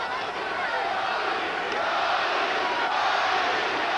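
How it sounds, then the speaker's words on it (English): Boxing arena crowd at a Gatti vs Leija fight, a dense, steady roar of many voices rising into a sustained chant that fills the space without a break. "Crowd begins to chant immediately for the love of their lives"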